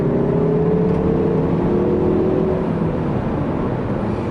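A 2021 Mazda 3 Turbo AWD engine pulls steadily under acceleration, a subdued, continuous close growl with a rising tone holding for a few seconds, no voices.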